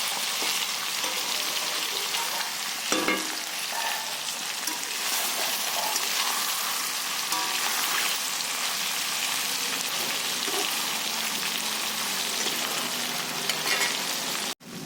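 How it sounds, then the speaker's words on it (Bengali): Chicken pieces frying in oil in a pan for a chicken and potato curry, a steady, close, dense sizzle and crackle that runs unbroken throughout with a brief clatter near the start. "আগে মাংসটা ভালো করে ভেজে নেব তেলের উপরে"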